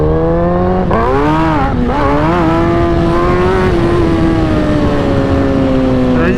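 Engine of a 2008 Suzuki GSX-R 1000 motorcycle running after a gas treatment: a loud, close, steady idle with a couple of quick throttle blips that rise and fall early, then it settles back to a smooth, even hum.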